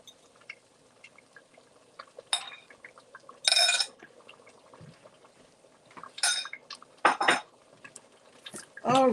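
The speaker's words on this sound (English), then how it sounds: "this is our eggs, and I'm going to pour the eggs in" Beaten eggs are poured into a pot of spinach stew, with scattered close clinks and knocks of a utensil and pot, plus soft wet pouring between them and no talking.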